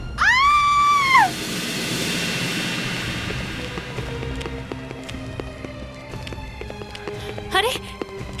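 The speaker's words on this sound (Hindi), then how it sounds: "अरे चीखने की आवाज तो यहीं से आई थी" A loud, high scream in a Hindi TV crime drama rises, holds for about a second and cuts off, followed by quieter, tense background sounds with scattered taps.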